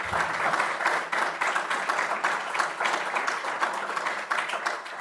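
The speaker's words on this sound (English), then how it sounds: "let's give a nice hand to our panelists" Audience applause for panelists at a CBD spa industry event, a steady wash of many hands clapping at moderate distance, continuous for about five seconds with no talking.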